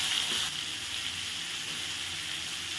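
Carrot and radish pieces frying in a pan over a high gas flame, a steady close sizzle and hiss that continues without a break.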